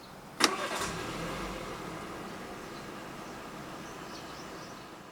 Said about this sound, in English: Put your foot on the brake and press the start button located to the left of the steering wheel.